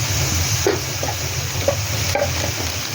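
Cumin, turmeric and green chili sizzle loudly in hot oil as they are sautéed, a constant close frying hiss broken by a few soft stirring knocks.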